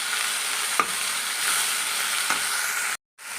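Okra frying in a pan gives a steady, loud sizzle while being stirred, with a few brief scraping accents, then a sudden short silence near the end followed by a single faint tap.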